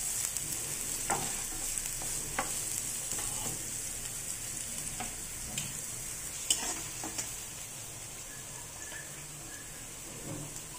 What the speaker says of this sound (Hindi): अभी हम इसमें प्याज डालेंगे। हल्का लाइट ब्राउन कर लेंगे।